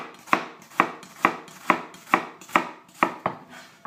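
A knife chops an onion on a cutting board in eight evenly spaced, crisp thuds, each about half a second apart, close and clear with nothing else audible.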